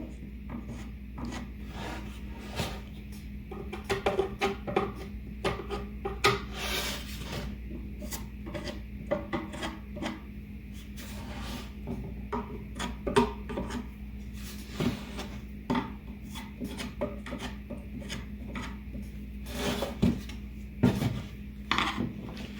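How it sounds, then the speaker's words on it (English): A flat blade screwdriver scrapes sawdust out of cuts in a wooden board for a rustic table top, giving close, irregular rasping and scratching strokes with occasional sharper knocks over a low steady hum. "So I usually just take a flat blade screwdriver and clean it out."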